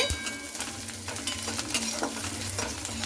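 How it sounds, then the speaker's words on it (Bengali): Onion, garlic and black cumin frying in a pan for a drumstick-leaf dish, a busy crackling sizzle with continuous close stirring and scraping from a spatula. "এরপরে কালো জিরেটা দিয়ে খুব ভালো করে এইভাবে নাড়াচাড়া করে নিচ্ছি।"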